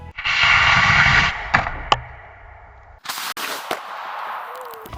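A 3D printed fist launched at 150 km/h hits a Coca-Cola can with a loud, sharp crack, followed by sudden rattling, clattering impacts and scattered debris noise.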